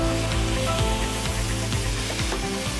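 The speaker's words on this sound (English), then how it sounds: "We're gonna be frying chicken without oil." Loud, steady sizzling of chicken breasts frying in a pan without oil, with crackles and pops throughout and no voices.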